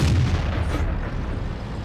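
A tank cannon fires in a tank video game, a Patton trading shots with a tier 10 tank destroyer: a loud, heavy boom with a broad rumbling tail that fills the short moment without any talk.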